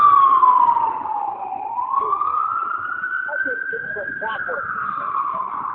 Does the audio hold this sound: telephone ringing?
no